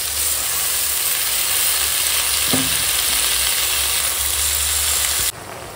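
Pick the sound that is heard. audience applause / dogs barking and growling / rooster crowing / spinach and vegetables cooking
spinach and vegetables cooking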